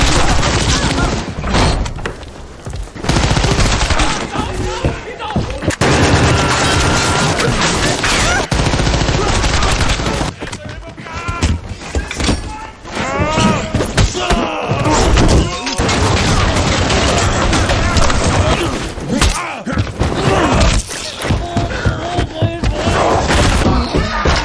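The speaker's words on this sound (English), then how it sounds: "Walker was nearly killed by gunfire coming from beneath the floor" Gunfire erupting in a scene from the 2025 action movie Havoc, rapid bursts of shots and heavy thuds mixed with crashes and dramatic music, with a narrator talking over much of it.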